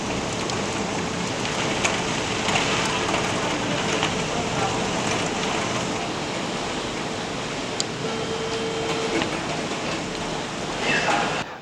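Rain falls steadily outside, a dense, even hiss of drops that stays loud and unbroken, with a few brief louder patters near the end.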